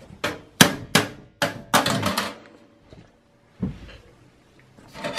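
A screwdriver pries out the rear I/O shield of an HP Pavilion desktop computer during a teardown, giving a run of sharp metallic clicks and taps, closely spaced at first, then sparser, with a final knock after a pause.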